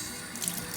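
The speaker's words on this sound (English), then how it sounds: "So when I turn the water on, it comes in one direction." Water runs steadily from a modern waterfall faucet, a soft, even hiss and splash close by with no voices.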